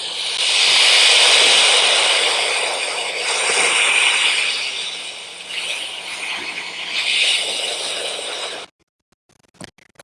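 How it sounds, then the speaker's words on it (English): Ocean waves rush and hiss in broad, swelling surges that rise and fall over several seconds, loud and close, before cutting off suddenly. "That was the sound of the ocean waves."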